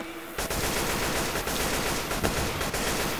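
Sustained automatic gunfire in the zombie shooter Left 4 Dead 2, a dense continuous rattle of rapid shots that kicks in after a brief quiet moment and keeps going loud and steady.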